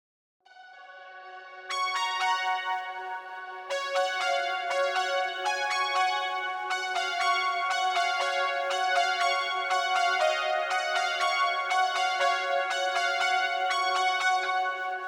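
Bright synthwave lead synth presets from Vital, a poly lead, playing a melodic line of sustained tonal notes with rich harmonics, entering after a soft pad and building to steady, loud repeated notes alone without talk.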